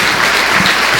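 A church congregation claps loudly and close by in a short, dense burst of applause.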